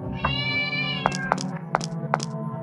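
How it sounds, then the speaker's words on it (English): Cat meowing in the horror video game Mad Father: one drawn-out meow followed by several short, sharp meows in a rhythmic series, close and clear over a low game background. "Oh, is that a cat?"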